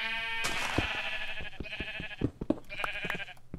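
A sheep bleats in a survival video game, giving wavering, nasal calls twice over a few seconds, close and clear, with faint clicks in between and no talking.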